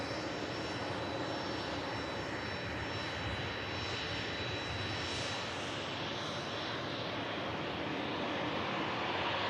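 An Air Portugal Embraer E190 arriving from Lisbon at Manchester Airport gives a steady, loud, broadband jet roar that fills the whole stretch without pause, with no talking.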